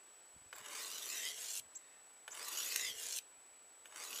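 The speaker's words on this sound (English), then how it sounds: "Each time you pass the blade over the stone, it cuts a layer off the stone." A knife blade is drawn across a wet sharpening stone in two long, gritty scraping passes and a brief third, each stroke close and steady with quiet pauses between.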